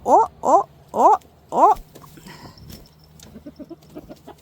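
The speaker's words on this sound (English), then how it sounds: "these guys are crowing because they're trying to figure out where their family has gone" Roosters give four loud, short crowing calls in quick succession up close, then quieter clucking and scattered farmyard noises follow.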